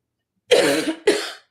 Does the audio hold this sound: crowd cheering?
no